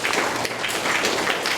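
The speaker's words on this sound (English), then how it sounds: "Tristan, I think we'll give you another clap because it was brilliant." Steady applause from an audience at a school junior prize-giving, rewarding a young pupil's performance; continuous dense clapping throughout.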